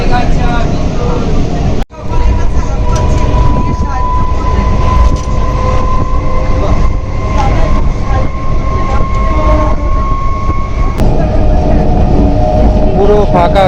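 A loud, steady rumble of a moving train carriage heading to Bongaon, with rattling wheels and a faint squealing tone, and a brief sharp knock early on.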